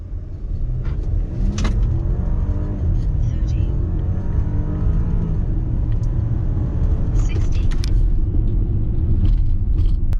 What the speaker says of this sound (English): So let's take this thing for a drive and see how it is.